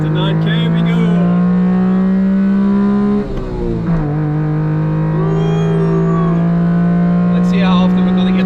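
Honda Beat fitted with an EVO 6 engine accelerating flat out toward 9000 rpm at the Nürburgring, a loud close in-car engine note climbing steadily in pitch with a brief dip at a gear change before rising again.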